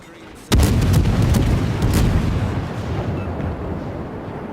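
The cruiser Belfast fires a high-explosive shell salvo in a naval warfare video game: a sudden heavy boom bursts in, then a long rolling rumble fades gradually.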